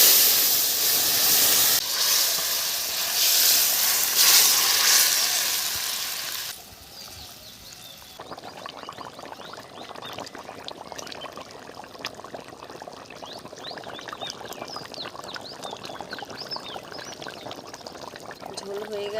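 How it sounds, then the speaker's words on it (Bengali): Curry broth poured into a pan of fried onions makes a loud, steady hissing rush of steam and sizzle for several seconds, then gives way to quieter bubbling and crackling as a voice talks. "এখন আমি ঝোলটা ঢেলে দেবো।"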